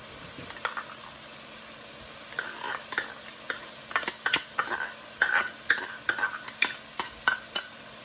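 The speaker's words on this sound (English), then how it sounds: "we're just going to stir that in Probably cook for about 30 seconds or so, just to really get that fragrance going and mix in with the garlic and the peppers" Garlic stirred into peppers and onions frying in a pan for chili, a steady sizzle broken by repeated clacks and scrapes of a utensil against the pan, close and fairly loud.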